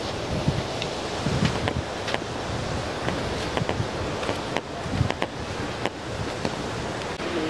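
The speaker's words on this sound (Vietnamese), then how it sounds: "hiện tại thì là gió lại về gió lại thổi rất là mạnh rồi các bác này" Strong storm wind blowing hard and continuously, rushing and buffeting the microphone with rustling and scattered knocks, loud and steady, no voices.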